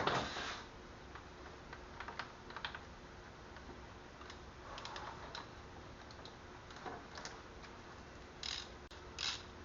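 A cheap 1/2-inch ratchet turns a bolt with an expensive bit on the 2.0T engine of a 2011 Audi TT Quattro, its pawl clicking in irregular quick bursts up close, with light clanks between strokes and no talk.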